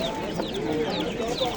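Young black chicks peep and cheep at a poultry market in Andijon, with short high chirps in a steady dense chorus under nearby talk and market bustle.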